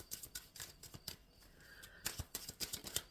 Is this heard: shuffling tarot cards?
yes